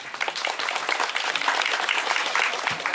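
Concert audience at an outdoor event by a graduation tower in Knurów applauds a jazz group, steady dense clapping that holds evenly for the whole stretch, with no talk over it.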